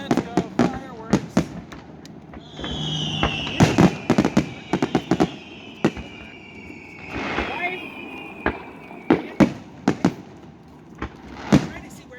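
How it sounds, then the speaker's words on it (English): Kansas City Royals after-game fireworks show, with repeated sharp bangs and crackling bursts spread across the sky, some near and loud, others farther off, while people talk and cheer nearby. "Let's go, fireworks."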